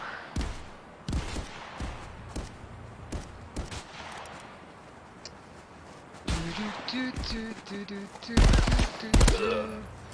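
Gunfire in the VR shooter game Contractors, bursts of rapid automatic shots and single sharp cracks scattered throughout, some close and loud, especially near the end, with people talking between volleys.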